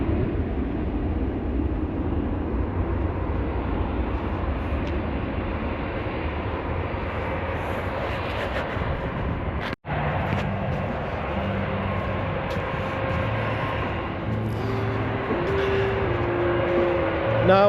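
A jet airliner landing at National airport in Washington D.C. gives a broad, steady roar heard at a distance, with a brief dropout partway through, and a faint whine rising later.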